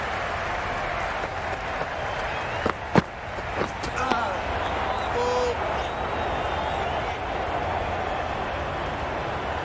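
Large cricket stadium crowd roaring and applauding during a match, a dense continuous wall of cheering with a few sharp claps and bangs cutting through near the middle.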